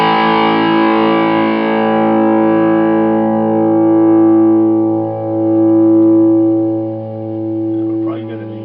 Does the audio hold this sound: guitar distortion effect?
yes